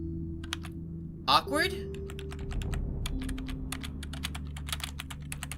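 Arrow keys on a computer keyboard tapped repeatedly during a puzzle game, sharp clicks coming in uneven bursts with a steady background hum and brief talk partway through.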